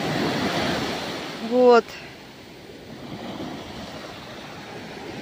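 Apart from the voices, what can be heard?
sea waves washing ashore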